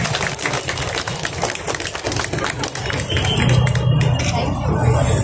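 Audience at a film trailer launch event applauds steadily, a dense wash of clapping with crowd murmur, growing fuller and louder toward the end.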